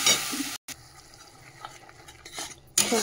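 A paste of ginger, garlic, tomato and green chilli fries in a pan with a low sizzle while a utensil stirs and scrapes against the metal. The sound is near, cuts off briefly, then comes back louder, and no one talks.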